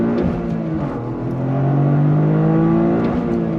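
A 2023 Toyota GR Corolla pulls away in first gear from a slow roll at about 2,500 RPM, its engine note climbing steadily and loudly in a rising whine and growl heard from inside the car, with no talking.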